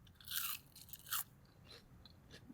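Crisp crunching bites into crinkle-cut fries, two loud bursts followed by softer chewing crunches, close up with no talking.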